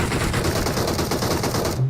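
Rapid automatic gunfire from an UZI in the battle-royale game BGMI, a loud, continuous close burst of shots lasting under two seconds, with no talk.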